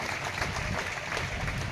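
An audience at a public address by a former assembly speaker claps together in dense, continuous applause, loud and steady throughout.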